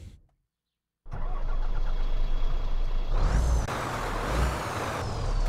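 A chip-tuned truck engine in a trucking video game starts and runs, a loud steady close rumble after a brief silence, with a rise in pitch partway through as it revs before settling back.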